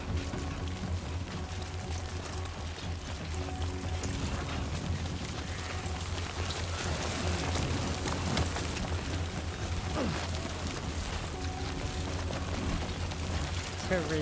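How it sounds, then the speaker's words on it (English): Steady rain pours down in the video game Death Stranding 2, a dense continuous hiss of falling water under a low rumble and faint game music, with someone talking over it. "Great. Rain. Gotta move."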